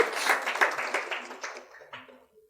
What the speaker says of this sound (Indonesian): Kita berikan aplaus kepada Bayu ya.